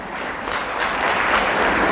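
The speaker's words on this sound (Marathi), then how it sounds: "पुनश्च एकदा यांच्यासाठी टाळ्या वाजवा." Applause from a crowd at a Buddhist religious talk, a full, even wash of many hands clapping that swells slightly and holds steady, loud and close.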